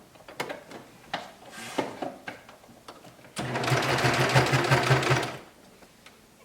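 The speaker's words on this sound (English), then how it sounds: "to sew the binding by pulling it under this clear foot" A CV3550 double-sided cover stitch machine sews a binding, running in one steady whirring, rattling burst of about two seconds after a series of clicks and handling knocks.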